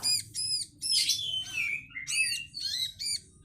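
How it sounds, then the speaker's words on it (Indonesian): Young ciblek (prinia) chicks being hand-fed give rapid, high, repeated chirps in eager clustered bursts, close and clear over a faint low background hum. "Ini saya sedang mencoba meloloh anakan ciblek yang masih imut-imut"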